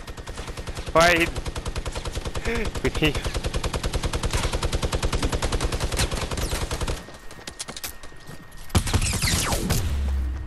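Rapid automatic gunfire from a Fortnite match, sustained and loud in long bursts, broken by a brief pause before more shots. Excited voices call out over the shooting.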